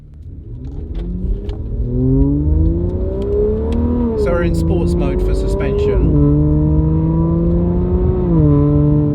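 An Aston Martin Vanquish driving on a road in sports suspension mode, its engine note rising through the revs and dropping at gear changes in repeated climbs, loud and close, with someone talking over it.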